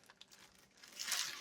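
A zippered plastic bag is pulled open by hand, giving a short close crinkle that swells into a brighter rustling burst near the end.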